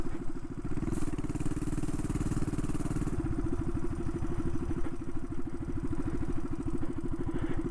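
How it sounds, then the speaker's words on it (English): Small mini bike engine running while ridden on a practice track, a loud, steady close chugging drone that shifts pitch slightly as the throttle changes, with no talk over it. "Let's see if the mini bike can handle it over the XR 150."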